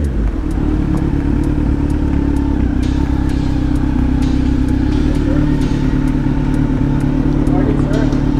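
A motorcycle engine, seemingly on a Kawasaki Z900 SE with a backfire problem, drones and revs steadily nearby, with a faint rhythmic ticking over the engine and some background noise.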